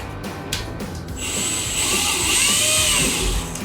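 A drill fitted with a 25/64 bit bores a pilot hole into the rear spoiler of a 2015-2023 Mustang GT Performance Pack, a steady high whine rising in the second half after a few brief knocks.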